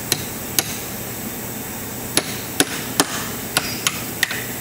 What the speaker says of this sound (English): take a special chisel and run an underneath of it